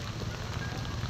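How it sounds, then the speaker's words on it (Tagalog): Rain falls steadily on a surface, a soft continuous patter and hiss at low level, brief and unbroken, with no voices. "Ulan man kaayo"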